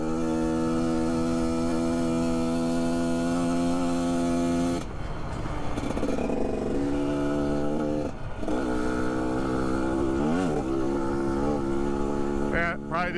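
A 2021.5 GPX Moto TSE250R motorcycle runs steadily with a buzzing engine note, then the pitch breaks and climbs again through gear shifts, with a couple of brief dips in revs. The sound is close and loud throughout, with snow on the ground.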